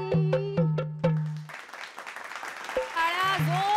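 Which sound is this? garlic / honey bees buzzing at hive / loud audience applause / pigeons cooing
loud audience applause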